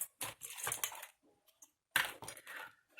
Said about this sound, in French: J'entends des bruits de scotch sur le carton.